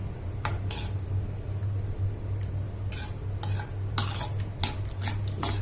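A spoon scrapes and clinks through a black-eyed bean biryani mixture with chili powder, mint leaves, green chilies and carrot in a metal pot, giving soft squishy stirs and sporadic bright scrapes over a steady low hum.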